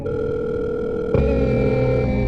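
A cell phone call tone plays: a steady electronic dial tone that shifts to a different pitch about halfway through, loud and alone with no talk.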